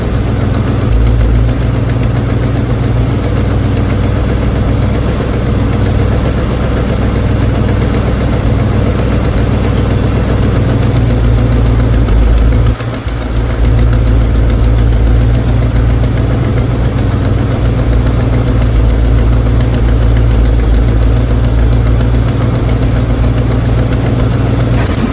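A Pontiac Bonneville engine idling steadily with a newly fitted dual-feed carburetor being tuned, a loud, close, low rumbling drone with a slight knock and one brief dip partway through.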